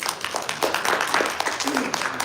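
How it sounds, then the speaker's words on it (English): An audience applauds a panel at a bodybuilding expo, a brief burst of dense clapping with voices mixed in. "Please give them a round of applause."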